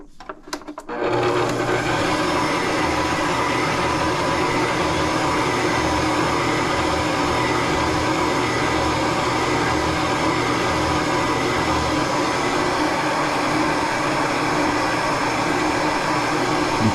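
An electric mixer beats gluten-free black cake batter. After about a second of quiet handling noise it starts up and holds a loud, steady whirring drone until the end.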